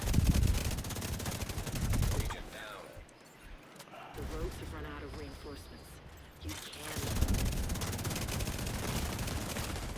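Automatic gunfire in the shooter game Tom Clancy's The Division 2 crackles in dense bursts at the start and end, dropping to quieter game sounds in between while players talk over it.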